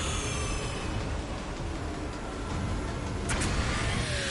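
Steady loud roar of a car engine and road noise during a high-speed chase into oncoming traffic in Mass Effect 2, with a brief whoosh of passing traffic near the end.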